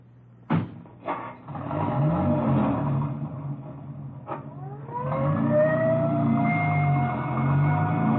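A radio drama sound effect: a couple of sharp door-like thumps, then a car engine running and an ambulance siren rising into a steady wail. It is fairly loud and close, with no talk.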